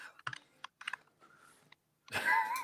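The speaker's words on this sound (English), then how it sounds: "Can you hear somebody typing?" Keyboard typing in faint, scattered bursts of clicks, followed by a louder burst of sound near the end.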